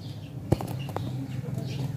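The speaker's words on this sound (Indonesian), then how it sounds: "Ini burung-burung yang sangat langka ya." Wings of rare birds flap in one sharp burst over a steady low hum, with a few faint chirps following close by.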